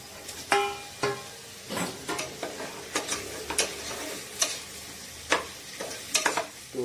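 Masoor and moong lentils being stirred in a cooking pot for winter vegetable khichdi: a close series of irregular spoon scrapes and clinks, about a dozen strokes over a soft sizzle, with no talk.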